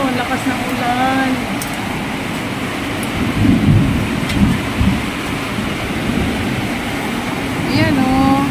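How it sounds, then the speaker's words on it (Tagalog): Heavy rain pouring outdoors, a dense steady hiss with a low rumbling undertone, close and loud throughout, with brief voice-like tones now and then over the downpour. "Ang lakas ng ulan dito."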